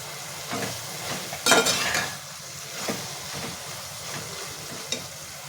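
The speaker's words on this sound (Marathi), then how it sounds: "हे सर्व आपल्याला मिक्स करायचे व्यवस्थित ह्याच्यामध्ये थोडं विनेगर टाकून घेते" Mushroom fried rice ingredients are stirred in a pan with vinegar, giving a soft sizzle under light, irregular spatula scrapes and clinks, with one louder scraping burst early on and no talking.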